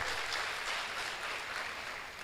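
Audience at a Katsina State young professionals colloquium applauding the state's Executive Governor, a steady, dense wash of clapping heard from some distance throughout, with no voices over it.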